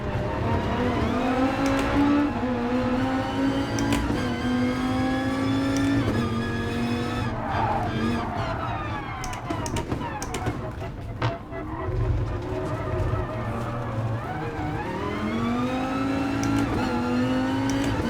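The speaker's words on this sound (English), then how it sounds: "Man, this is a low revving engine." A low-revving race car engine accelerates in the Gran Turismo Sport game, rising through the gears with repeated pitch sweeps and shifts, loud and continuous with some tire noise.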